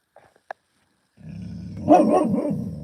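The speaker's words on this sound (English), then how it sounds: "Whoa, who you barking at?" After a few faint clicks and near silence, a dog barks and growls nearby in a short, rough burst, loud and close.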